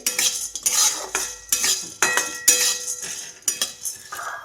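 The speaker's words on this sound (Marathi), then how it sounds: "त्याच्यावरती ना ते सूर्यफुलाचे बी मी असेच भाजून घेणार आहे" Sunflower seeds roasting in a little ghee in a kadhai, heard as repeated metallic scraping and clinking of a spoon against the pan in uneven bursts, close and fairly loud, with no talking.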